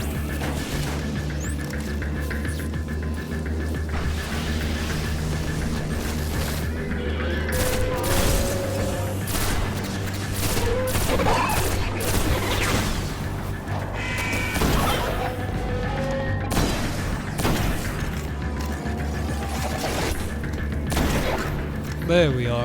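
Gunfire against Vex enemies in the shooter game Destiny, with repeated bursts of shots and sharp impacts over a steady music and ambience bed, loud and continuous throughout.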